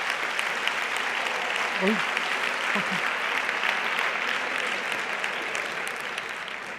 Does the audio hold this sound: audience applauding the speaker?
yes